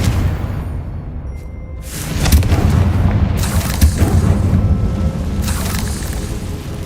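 In the Hogwarts Legacy video game, a Confringo explosion spell goes off with a loud, booming blast and a rumbling roar that sustains for several seconds before fading, no talk.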